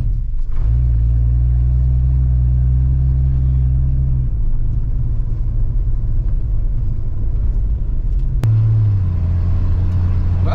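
Old car with 40-year-old tires driving down a road, its engine rumbling loud and steady close by, with a low droning tone that holds, dips and then shifts pitch as it changes gear near the end.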